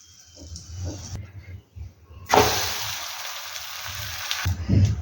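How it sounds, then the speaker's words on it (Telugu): Naan frying on a hot pan with its edges roasting, a steady broadband sizzle rising loudly midway and holding to the end, with faint speech-like murmurs before it starts. "ఇలా ఎడ్జెస్ అన్నీ బాగా ఫ్రై అయ్యేలాగా కాల్చుకోవాలి"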